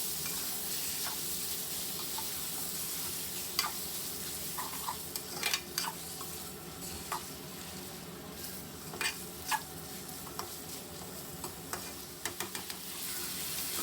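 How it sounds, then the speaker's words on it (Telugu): Cleaned chicken pieces frying in hot oil for a spicy Andhra-style kodi vepudu, a steady close sizzle with scattered sharp crackles and occasional stirring clicks throughout, no talk. "ఆయిల్లో బాగా ఫ్రై చేసుకుందాము"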